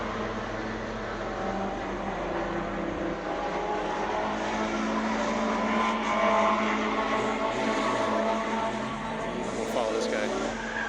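Autocross cars running in the lower lot at Lime Rock Park, with a Mustang among them, blend into a steady, distant engine drone with a faint tire-scrub edge.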